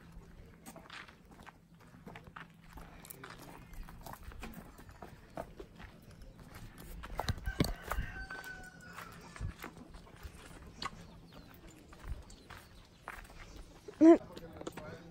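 Mules walking on a countryside trail in Sinaloa, hooves clip-clopping in an irregular rhythm at close range, with voices talking over the steps.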